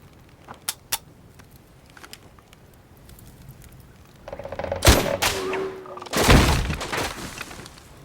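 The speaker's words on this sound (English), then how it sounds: "Major, demonstrate the weapon on single shot." Single shots from a military small-arms weapon ring out in a demonstration, a few sharp isolated cracks at first, then louder close reports with clattering echoes and debris-like noise.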